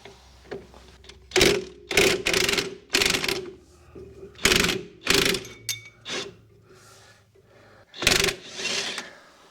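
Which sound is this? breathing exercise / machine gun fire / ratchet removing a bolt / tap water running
ratchet removing a bolt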